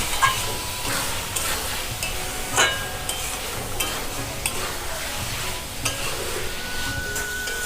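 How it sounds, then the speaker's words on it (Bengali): Potatoes and mushrooms sauté in a spicy Bengali-style mushroom kosha gravy in a pan, giving a constant close sizzle with frequent scraping stirs and occasional spoon knocks throughout. "এবারে আমি আলু আর মাশরুমটা দিয়ে দেব। দিয়ে আমি আরও 2 মিনিট কষে নেব।"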